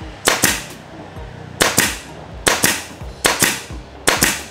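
A pneumatic nail gun fires nails into pine wood, giving five sharp, loud, close shots, each a quick double crack with a short pneumatic hiss.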